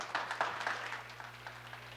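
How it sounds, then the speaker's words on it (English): Brief, scattered applause from a small audience at a World Mental Health Day panel on racial trauma, a few claps standing out over a steady low hum, fairly faint and distant. "just give yourself a round of applause for being here on World Mental Health Day"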